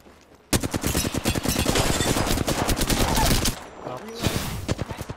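Rapid automatic gunfire from the video game Apex Legends rattles in a dense, loud burst of sharp shots lasting a few seconds, then a short pause before a few more scattered shots follow.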